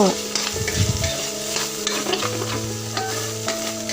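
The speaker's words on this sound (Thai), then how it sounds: "พัดให้เข้ากันนะเจ้า" Mixed vegetables are stir-fried in a pan in a northern Thai home-style dish, giving a steady close sizzle broken by repeated scraping and tossing strokes of the spatula.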